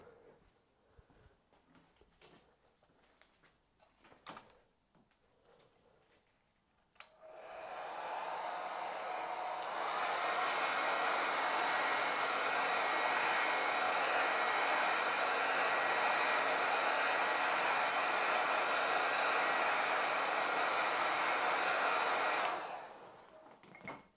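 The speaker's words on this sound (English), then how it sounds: "let's just dry it with the hairdryer" A hair dryer blows hot air over leather, a loud, steady broadband roar that starts abruptly after a few seconds of quiet handling noises and runs unbroken for about fifteen seconds before cutting off.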